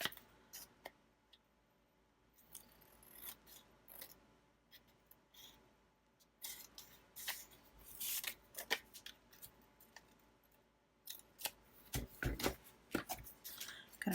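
Scissors snipping paper while making a calendar page for a December Daily scrapbook, scattered quiet cuts and clicks, growing busier and louder toward the end, no talk.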